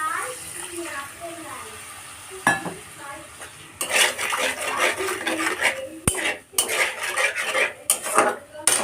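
A utensil stirs turmeric and salt in a pan, with water added to keep the spices from burning, making repeated scraping and clinking strokes that rise in bursts over a low kitchen background.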